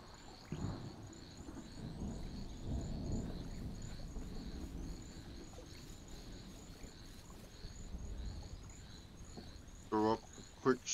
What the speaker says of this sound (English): Got another storm.